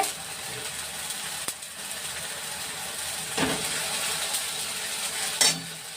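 Chicken korma sautéed with onion paste in a pan, a continuous close sizzle and frying hiss with occasional scrape and clack of a spoon against the pan.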